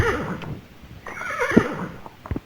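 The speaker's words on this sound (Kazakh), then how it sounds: "мына жақта ат бар екен" A horse in the game Deer Simulator gives a loud, close whinny, a rising then falling neigh, with a few faint clip-clop hoof sounds near the end.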